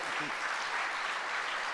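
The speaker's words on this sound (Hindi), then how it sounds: "एक ताली तो आपके लिए बनती है" An audience at the Goafest 2024 conversation with Manoj Bajpayee and Prasoon Joshi claps in sustained, even applause that fills the hall throughout.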